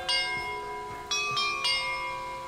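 Video game bells chime, three bright, ringing strikes that overlap and sustain, each one clear and fairly close with no talking.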